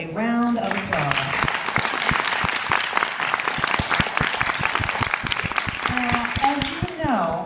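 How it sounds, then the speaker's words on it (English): An audience at a Black History Month dance celebration claps in a steady round of applause, crisp individual claps close by, with a speaker's voice heard at the start and end. "So give yourselves a round of applause."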